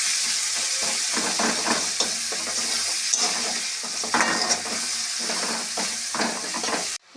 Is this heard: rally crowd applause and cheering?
no